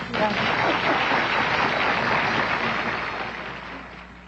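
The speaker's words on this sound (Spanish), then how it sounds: "Respira profundo, siéntate, ponte cómoda y recibe este aplauso." Audience applause at a political event, a steady crowd clapping that starts strong and gradually tapers off over a few seconds.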